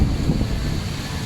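Wind rushes over the microphone on a sailing yacht crossing the Atlantic Ocean under sail with a broad reach at 14–17 knots, a steady loud buffeting roar mixed with sea noise.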